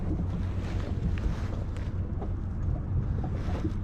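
A power boat's motor runs at a steady low rumble while the craft is steered during level 2 powerboat training, mixed with wind buffeting the microphone and water wash, with no voices.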